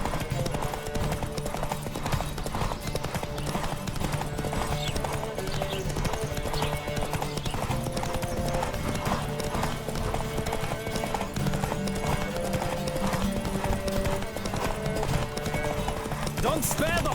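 A horse gallops in a race in The Witcher 3 video game, with fast, continuous hoofbeats, loud and steady throughout, over game music, occasional whinnies and voices.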